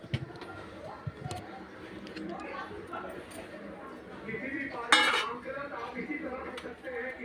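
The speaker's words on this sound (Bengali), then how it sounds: "এবার আমি ঢাকনা দিয়ে ঢেকে 25 মিনিটের মতো দমে দিয়ে রাখবো" A metal lid set down over a pot of potato biryani for slow steaming, with clinks and clatters of cookware, close by, under a person talking.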